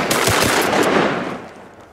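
Shotgun blasts on a Minnesota duck hunt, a quick volley of close, loud reports fired almost together, leaving a decaying outdoor rumble.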